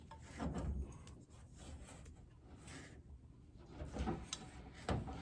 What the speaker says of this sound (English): that I'm going to scrape off my paddle